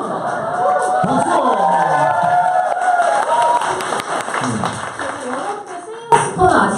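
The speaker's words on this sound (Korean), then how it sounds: "박수!" Studio audience applauding and cheering on a Korean talk show, a dense burst of clapping mixed with voices and laughter, close and loud, with a sharp final flurry near the end.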